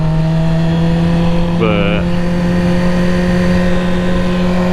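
A 2020 Yamaha R6 sport motorcycle engine drones steadily and close by on a canyon road, with one quick rising rev in the middle; a voice briefly speaks over it.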